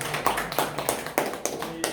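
Light applause from attendees at a retired civil servants' association committee meeting in a small meeting room, a few scattered claps repeating in uneven bursts over about two seconds, close and moderately loud.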